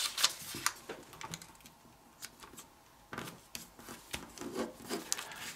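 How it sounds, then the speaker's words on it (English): Sheets of origami paper are creased and folded by hand up close, with crisp crackles, taps and soft rubbing in irregular bursts and short quiet gaps, with no talking. "Now fold this corner up so that this edge aligns with the crease."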